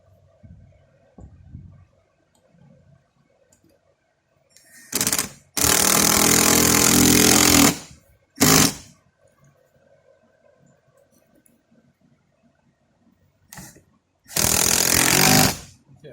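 Power tool driving screws into a spare tire mount on a 2025 Ford Bronco, loud bursts of whirring: a short one, a long run of about two seconds, another brief burst, then a final long run, with quiet handling noises between.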